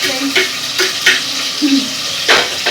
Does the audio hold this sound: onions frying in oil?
yes